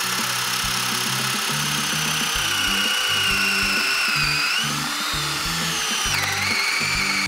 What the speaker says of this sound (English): So we'll get to drilling.